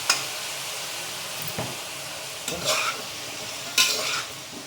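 Vegetables sautéing in a pan for sambar rice, a soft steady sizzle with occasional louder stirring scrapes of a spoon against the pan, close and alone without talk.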